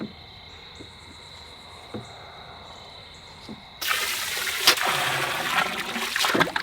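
Water poured onto a large greenhouse plant, a splashing, trickling wash that starts abruptly partway through and continues loud and close over faint insect chirping in the background.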